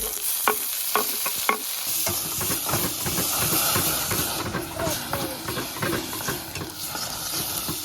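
Finely chopped tomatoes hit hot oil with black pepper, cloves and ginger-garlic paste for dal tadka, giving a loud continuous sizzle and hiss after a few sharp spoon clicks against the pan.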